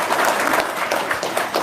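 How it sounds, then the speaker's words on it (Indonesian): A crowd applauds a testimonial speaker with dense, continuous clapping throughout, fairly close and even in loudness. "tepuk tangan dong, luar biasa"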